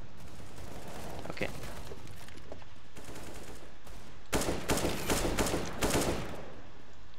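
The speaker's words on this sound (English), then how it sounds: "the AK sound is fucking shit, man. It looks... It sounds so fucking cheap." AK-47 gunfire in a video game, several short rapid bursts over steady background noise, with someone speaking briefly.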